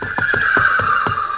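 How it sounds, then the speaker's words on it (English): A horse neighs as a radio drama sound effect on a 1949 broadcast, one loud, continuous whinny with rapid quavering pulses, close and alone. "Hey, Harlow, that's a horse."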